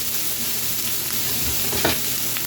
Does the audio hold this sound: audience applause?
no